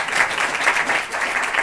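An audience at a leadership talk claps together, a dense, fairly loud patter of many hands with slight swells, carrying on steadily without any speech over it.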